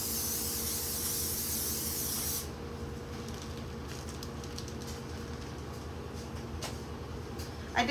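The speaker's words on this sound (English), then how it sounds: "let me spray this first before I get too crazy" A can of cooking spray hissing onto a pan for about two seconds, a close, steady spray that cuts off abruptly, followed by quiet kitchen noise.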